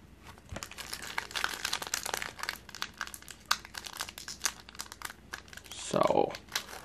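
A Pokemon card booster pack wrapper is torn and crinkled open, close-up crackling and rustling throughout with a louder rip near the end, and a person talks briefly.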